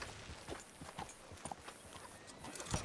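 Horse hooves clip-clopping in the Red Dead Redemption 2 video game, a steady series of soft hoof strikes at a walking pace, faint and close, with no talking.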